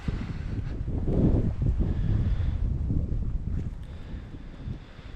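Wind buffets the microphone outdoors on the water during a Pennsylvania fishing trip, giving a continuous low rumbling roar that swells and eases slightly, loud and close with no voices.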